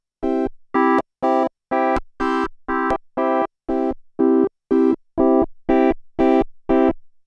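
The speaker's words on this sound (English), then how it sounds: "you can assign one of the 16 waveforms operators can have on the SY99" A Yamaha SY99 synthesizer plays a run of about sixteen short, evenly spaced tones, each a different FM operator waveform with a buzzy, harmonically rich timbre, loud and clear with brief silences between notes.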